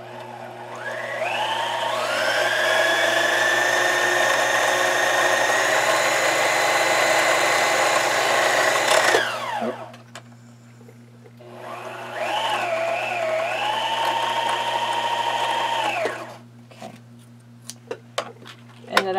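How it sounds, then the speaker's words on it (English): A sewing machine winds thread onto a bobbin in two steady whirring runs, the first about nine seconds long and the second shorter, with a pause and light clicks between and after, close and without talk. "I like to give it some extra tension because I just feel like I get a nicer wind on my bobbin if I do"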